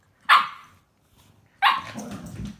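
Two sharp, loud barks ring out close by, each trailing into a rougher, growly tail, from one of three dogs at home.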